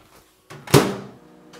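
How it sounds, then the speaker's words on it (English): A single sharp pop of microwave popcorn sounds close by against near silence, followed by a brief fading rattle. "first pop right there"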